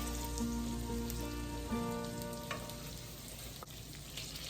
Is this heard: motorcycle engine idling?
no